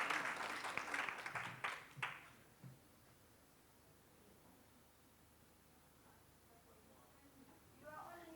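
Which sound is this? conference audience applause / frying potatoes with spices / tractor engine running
conference audience applause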